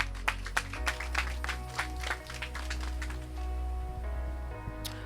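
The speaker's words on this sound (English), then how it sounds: "Round of applause for her, please." Sparse, fairly quiet applause at a youth forum in South East St. Elizabeth as a speaker is invited up, individual claps fading over a few seconds above a steady low hum.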